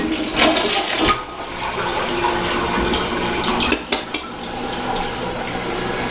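A Glacier Bay dual flush toilet runs its single flush, a steady loud rush of water swirling for several seconds with a couple of sharper knocks as it drains.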